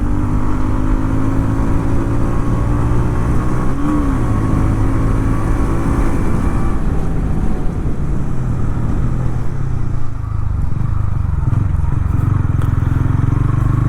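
A TVS Ronin Agonda Edition motorcycle engine runs loud and close for the whole stretch, with a brief rising rev early on before settling back into a steady, throbbing drone.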